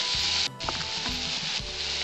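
Onions sizzling in hot oil as they fry toward reddish brown for a Bengali pui metuli dish, a steady close crackle with a few soft stirring scrapes and no talk.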